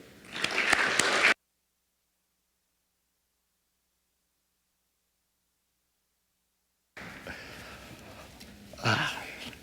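Applause from an audience at a University of Richmond Museums evening lecture, welcoming the speaker to the podium; a short burst of clapping, then a silent gap, then a softer spell of crowd noise and clapping.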